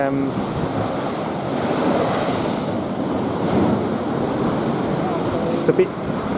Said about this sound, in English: a bit choppy on the sea today